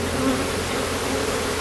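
A dense, steady buzz of many honey bees swarming around an open hive during an inspection fills the short stretch, fairly loud and close with no talk.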